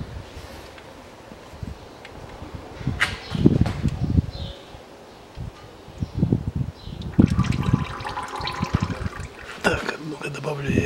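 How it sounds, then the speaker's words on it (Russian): Gearbox oil drains from the manual transmission of a 2005 Peugeot 407 1.8, trickling and splashing in uneven bursts while someone speaks now and then. "Побежало масло."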